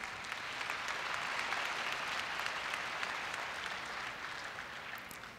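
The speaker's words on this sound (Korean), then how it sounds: "큰 박수 부탁드립니다." A large audience at a Korean university entrance ceremony gives sustained, even applause that swells and then gently tapers, heard from a distance in a big hall.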